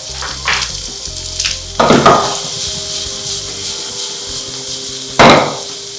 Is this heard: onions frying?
yes